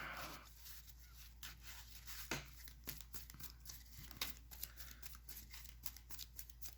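Yu-Gi-Oh speed duel deck cards being shuffled by hand, close and quiet, with a run of soft riffling and flicking clicks scattered irregularly over a hushed room.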